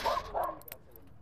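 A small dog gives two quick, high yips close by, followed by faint soft clicks and near silence.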